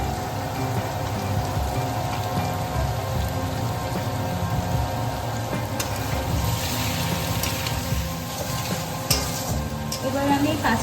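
Onion, chili and tomato for mixed vegetables fry steadily in a pan with a continuous sizzle and occasional stirring scrapes, close and even throughout.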